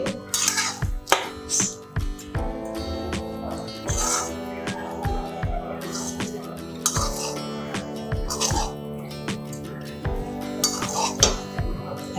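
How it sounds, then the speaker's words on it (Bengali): A utensil gently stirs pineapple pulao in a pot, producing soft scraping and intermittent metallic clinks and taps spaced irregularly, close and fairly quiet, with some faint background hum. "একবারে সুন্দর হয়েছে ঝরঝরে দেখো হালকা হাতে নেড়ে দিলাম"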